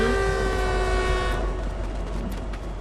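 A steady train rumble in Fortnite Chapter 6 with a long, droning horn tone that cuts off partway, followed by rolling rail noise and faint clicks.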